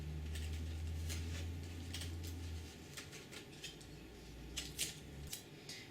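Scissors trim material in quick snipping bursts, small crisp cuts close by, with a low hum underneath that drops out partway through.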